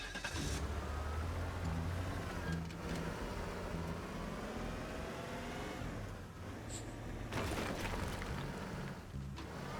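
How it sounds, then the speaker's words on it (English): A car ploughs through a building in the video game Teardown, its engine droning steadily and loudly alongside crashing and rumbling debris for the whole stretch. "I'm running a car through this place"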